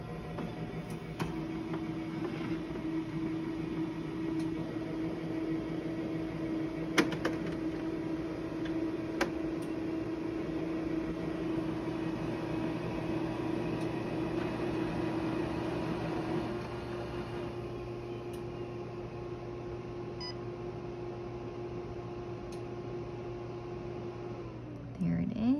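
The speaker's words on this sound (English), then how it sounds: "The power button is to the side over here. You can't really see it. And it'll power on." A Uninet iColor 550 white toner printer powers on with a steady mechanical hum and faint tonal whine, a brief click partway through, then the motor note shifts and winds down near the end; fairly quiet, no talk over it.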